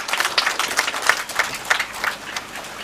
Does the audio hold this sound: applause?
yes